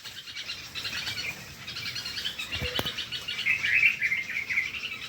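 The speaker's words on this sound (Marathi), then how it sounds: "चिमणं पाखरं सगळे उठले बघा" Small birds chirp and twitter busily throughout, a steady chorus of high tweets with no talking.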